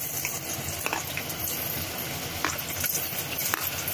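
Garlic frying in a little oil in a pan on a stove, a steady close sizzle with scattered soft crackles and no talking.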